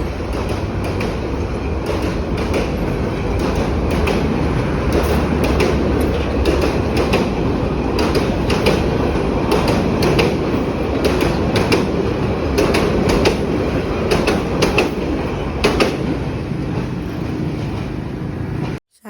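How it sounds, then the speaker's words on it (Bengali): A passenger train headed for Dhaka via Jamalpur rolls past near Sarishabari, a loud, steady rumble with rhythmic clickety-clack of wheels over rail joints lasting nearly twenty seconds before cutting off abruptly. "তারপর দেখি একটা ট্রেন যাচ্ছে"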